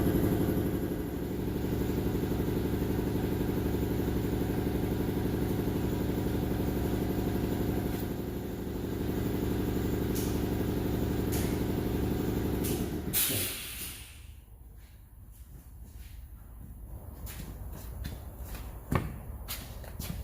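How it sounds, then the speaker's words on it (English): An air compressor runs with a steady, loud mechanical drone for about thirteen seconds, then shuts off abruptly, leaving only quiet background noise and a few faint clicks and knocks. "Wait for the air compressor to kick off."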